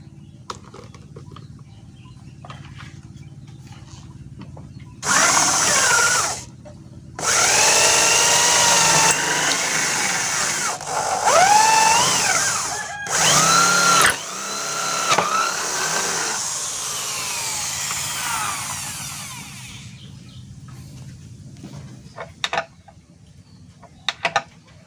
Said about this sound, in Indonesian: setelah itu kita baut dari bawah